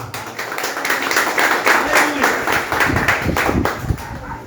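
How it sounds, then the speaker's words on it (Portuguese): A church congregation applauds during a service, a dense steady patter of many hands clapping at moderate loudness, mixed with some voices and crowd noise. "Aplauda Jesus"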